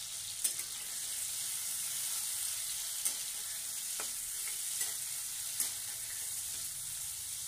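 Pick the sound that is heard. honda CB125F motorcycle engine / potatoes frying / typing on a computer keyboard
potatoes frying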